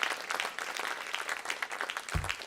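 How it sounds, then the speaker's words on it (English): Applause from a festival audience at an awards forum, a moderately faint, steady patter of many hands clapping throughout, with a brief low thump near the end. "You should get another roaring round of applause"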